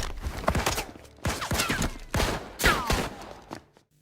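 Gunfire crackles through a shootout in the video game Mafia, with several loud, close bursts of overlapping shots spread across the moment and no voices.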